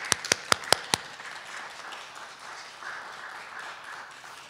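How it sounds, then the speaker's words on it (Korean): Brief applause welcoming a pastor at a church gathering: a few sharp, loud claps at the start, then a soft, diffuse murmur of scattered clapping that fades into the room's background. "박수로 환영하겠습니다."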